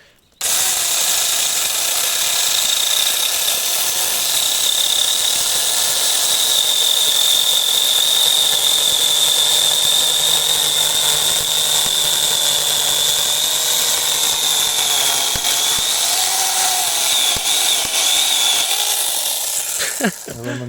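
Konsun cordless battery saw cutting through a large piece of wood, a steady, loud, continuous motor whine with a high cutting tone that runs almost twenty seconds before stopping abruptly.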